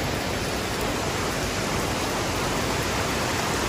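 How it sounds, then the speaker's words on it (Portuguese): Water pours steadily through a sieve-like strainer into a small pipe at a drinking-water spring by the Cachoeira do Sossego waterfall in Canela, Rio Grande do Sul, a constant close broadband rush with no breaks. "a água vai caindo, ela cai num tipo de peneira e desce por esse caninho aqui"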